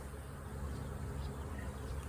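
Honeybees buzz steadily around an open hive during an inspection, a dense, continuous hum close by with no talk.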